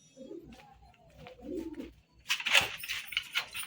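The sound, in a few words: pigeons in a cage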